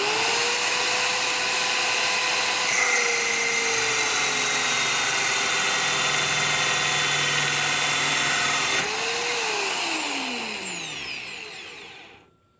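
A cutting station slicing through quarter-inch threaded rod, a loud continuous high whine of the cutting tool lasting about nine seconds, then a brief surge before the motor winds down and falls silent.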